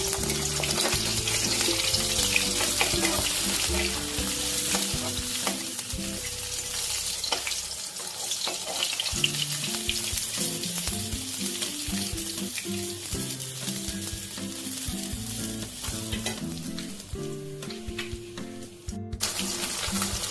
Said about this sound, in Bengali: পাবদা মাছগুলো ভেজে নিচ্ছি